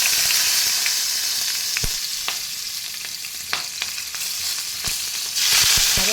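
Two green chillies fry in hot oil with mustard seeds and asafoetida, giving a dense, continuous close sizzle punctuated by scattered sharp pops and crackles that swell near the end.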